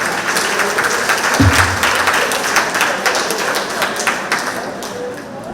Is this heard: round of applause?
yes